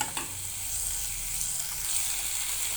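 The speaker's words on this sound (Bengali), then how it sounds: "এবার ব্রোকলি, আলু, মটরশুঁটি দিয়ে দিয়েছি। এবার মশলার সঙ্গে সুন্দর করে কষিয়ে" Broccoli, potato and peas fry with spices in a pan, a steady loud sizzle with light stirring throughout and no voices.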